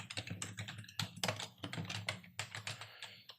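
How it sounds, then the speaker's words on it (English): Rapid typing on a computer keyboard while entering a name in Word 2019, a quick irregular run of close, crisp key clicks with brief pauses, no speech. "I'm going to type in my name."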